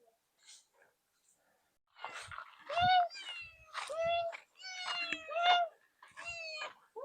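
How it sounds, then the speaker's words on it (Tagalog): A cat meows repeatedly outdoors on a rural walk to fetch rice from the fields, a run of close, clear, rising-and-falling calls with short pauses between them and soft breathing or snorting noises underneath. "Ganda ng pusa."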